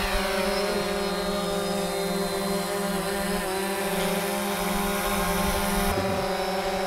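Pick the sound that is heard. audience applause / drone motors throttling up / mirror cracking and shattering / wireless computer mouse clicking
drone motors throttling up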